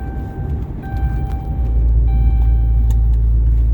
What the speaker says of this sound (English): Truck screaming at me.